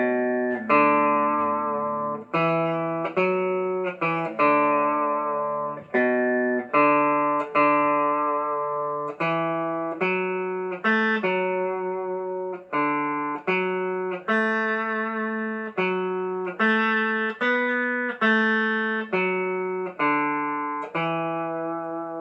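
A clean electric guitar plays a melody, steady, evenly picked notes with sustained tones wavering in vibrato, played alone at moderate volume.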